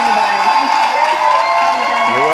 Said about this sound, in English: let's give the beautiful Shay a round of applause.